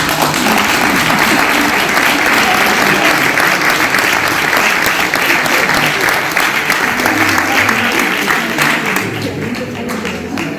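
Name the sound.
audience applause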